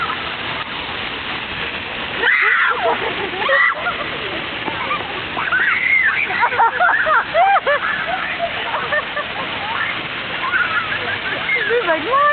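Water splashes repeatedly during outdoor water play, a steady wet spatter broken by bursts of louder splashing, with excited voices talking and shrieking over it throughout.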